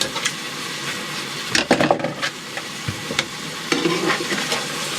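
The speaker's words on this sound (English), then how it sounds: "Remember, we're browning the mince." Minced meat browns in a pan for spaghetti bolognese cooked in a van kitchen, giving a steady close sizzle broken by a few louder scraping stirs.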